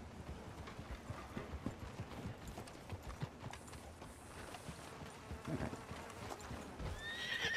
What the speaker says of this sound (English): I was gonna get run over by that horse had I not waited.